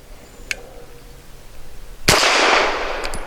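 A single sharp Springfield Armory XDe pistol shot cracks out loud and close, its blast trailing into a broad echoing decay, preceded by a faint click and small handling noises.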